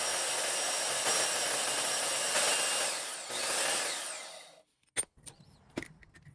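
A die grinder smooths the rough bandsawn edges of metal pads, a steady high whine for over four seconds that dips and surges, then cuts out, followed by a few sharp clanks and taps.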